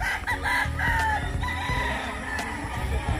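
Roosters crowing repeatedly with chickens clucking around them in a game yard, several overlapping calls at moderate distance over a low background rumble.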